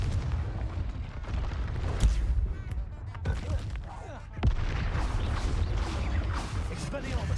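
Confringo spell explosion in the video game Hogwarts Legacy, a sharp blast followed by rumbling fire and combat noise amid dense game sound, with a voice talking over it.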